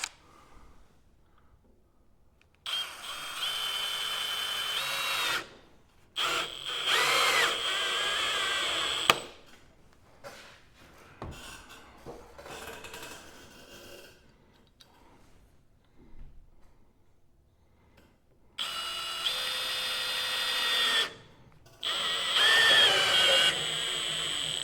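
A power drill drives a screw into cast metal on a workbench build, running in several bursts of steady whirring, close and fairly loud, with quiet pauses between runs.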